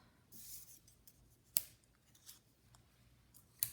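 Paper grass pieces cut with craft dies, a few soft scrapes and sharp snips at intervals, quiet and close with no talk.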